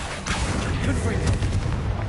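Confringo blasting spell going off in the Hogwarts Legacy wizarding game, a loud, dense, rumbling explosion with crackling bursts that stays heavy throughout.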